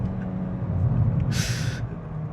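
A Volkswagen Golf GTI Clubsport in comfort mode pulls out of a junction under hard throttle, a low steady engine drone heard from inside, with a brief hiss midway through.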